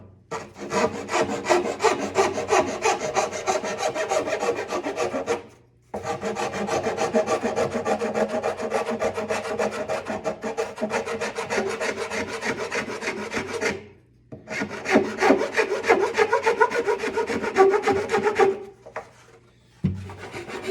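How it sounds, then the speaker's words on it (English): A metal file rasps steadily along the binding edge of a hard maple instrument body, loud and close, in three long rhythmic stretches of back-and-forth strokes separated by short pauses. "One of the reasons I use the file is because when you have a really hard wood like maple"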